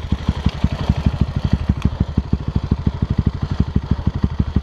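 A motorcycle engine runs close by with a loud, steady, chugging rhythm of even low pulses, like a rough idle, and no talking over it.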